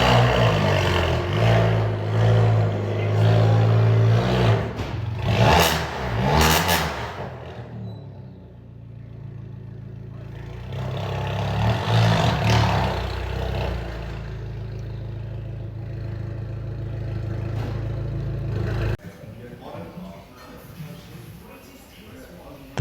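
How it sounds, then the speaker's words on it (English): Abarth 500 with a new exhaust fitted, rated at 135 brake horsepower, running on a dyno: a loud mid-pitched engine drone that rises and falls across several revs, with talk over parts of it. "I do like the sound it makes now with the new exhaust fitted to it."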